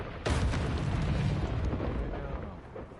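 A Confringo blasting spell in Hogwarts Legacy erupts as a loud, sudden explosion, with a sharp onset followed by a long, rumbling roar that slowly fades over a few seconds.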